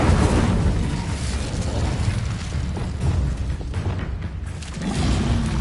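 Incendio fire spell going off in Hogwarts Legacy, a loud, dense roaring burst of flame and rumble filling the whole stretch, swelling again near the end, with no talk over it.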